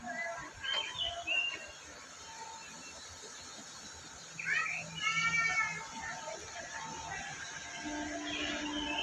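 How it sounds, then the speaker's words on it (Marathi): Birds chirp and twitter around a railway station platform by a river, with short bright calls standing out over a steady outdoor background hum and some faint voices. "मस्त पक्ष्यांचा किलबिलाटाचा आवाज बघा"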